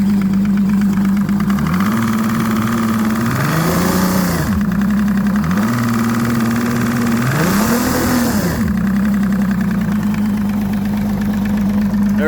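A 2016 Evinrude E-TEC 150hp H.O. outboard engine runs up close on a freezing day, idling with a steady loud drone and revving up twice before settling back.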